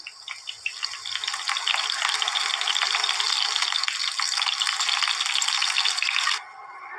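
Potatoes fry in hot oil, making a loud, bright, continuous sizzle with a crackling rattle that swells after the first second and drops off sharply near the end, with no voices.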